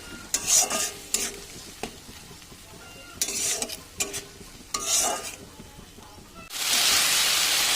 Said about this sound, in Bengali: এবার সব একসাথে ভালো করে কষিয়ে নেব